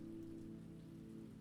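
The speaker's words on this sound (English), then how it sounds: "The raindrops seem to begin far above in the sky, descending gracefully to tap and ripple on timeless architecture." Spring rain falling and tapping on an old Tudor balcony, a steady close hiss of raindrops with no break, calm and even throughout.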